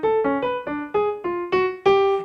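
A short atonal twelve-tone melody, eight distinct pitched notes struck one after another at a steady pace with no repeated pitch or tonal centre, clear and alone without any talk.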